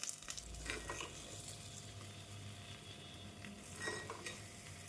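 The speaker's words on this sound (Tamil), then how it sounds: "அனைத்து பணியாரத்தையும் திருப்பி போட்டு மீடியம் ஃப்ளேமில் வேக வைத்து எடுத்து விடலாம்" Rava kuzhi paniyaram cooks in a kuzhi paniyaram pan over a medium flame as the pieces are turned: a steady, soft sizzle with a few light scraping clicks, and no one talking.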